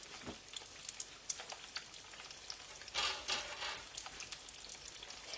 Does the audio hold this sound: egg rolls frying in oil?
yes